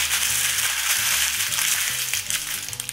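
Baking paper being crumpled by hand in a kitchen, a steady dense crackling and rustling that runs continuously, close and fairly loud, with no talking.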